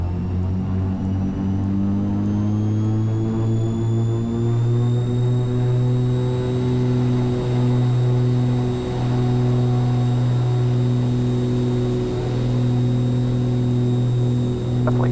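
A light aircraft's piston engine drones steadily and loudly at full power as the plane accelerates down the runway on its takeoff roll, the pitch rising slightly early on, with no talk over it.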